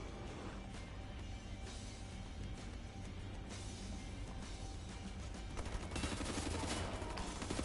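Assault rifle gunfire in Wolfenstein The New Order, with dense, rapid bursts of shots running throughout alongside crashing impacts. It grows louder and busier toward the end, with no voices.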